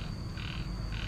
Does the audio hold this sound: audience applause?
no